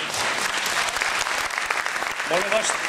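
An audience at a tango dance school event applauds warmly, dense continuous clapping throughout with a voice briefly audible near the end.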